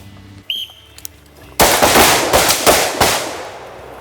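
An AR-15 rifle fires in quick pairs of sharp, loud shots close by, about six reports in a steady double rhythm after a brief quiet stretch with a few small metallic clicks.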